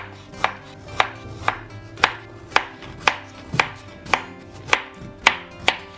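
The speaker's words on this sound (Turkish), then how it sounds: "Önce bu şekilde ince ince doğruyoruz." A knife chopping peeled radishes into thin slices on a board, about a dozen crisp, evenly spaced cuts, close and clear with no talk.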